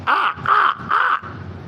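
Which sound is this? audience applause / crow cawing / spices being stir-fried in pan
crow cawing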